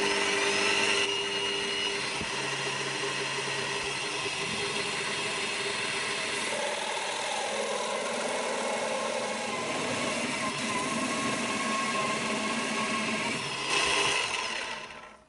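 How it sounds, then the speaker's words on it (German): A router built into a Bosch PTS 10 table saw drills pilot holes and cuts four rings from 3 mm material. It makes a steady, loud, continuous machine whine and grind that runs almost the whole time with no talking. "Da habe ich mir 4 Punkte angezeichnet gerade, die bohre ich vor und dann schneide ich mir da 4 Ringe raus"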